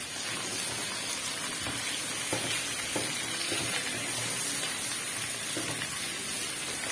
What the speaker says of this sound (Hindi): इस मटन को मैं अच्छी तरीके से भून रही हूँ